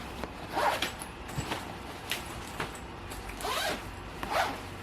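A zipper on a Ju-Ju-Be bag compartment is worked open and closed in several short, quiet rasping strokes, close by with no talking.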